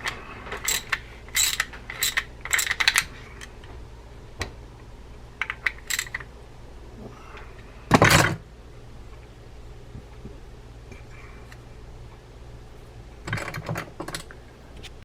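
Ratchet working on a vintage Shakespeare Spin Wonder 2065 fishing reel during servicing, a few bursts of quick metallic clicking and a sharp clack, quiet and close, with gaps of near silence between them.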